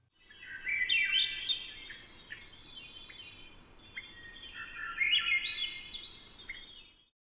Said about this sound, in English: The song of the Swainson's thrush climbs in pitch, and does so in a somewhat jerky, lurching manner.